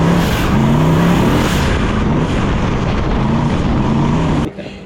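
A turbocharged 1000 whp Alumicraft sandrail engine gives a loud, continuous roar holding steady under acceleration, close and unbroken, then cutting off abruptly at the end.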